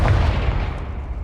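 Confringo blasting spell in Hogwarts Legacy, a single booming explosion that bursts loudly and rolls off into a short decaying rumble.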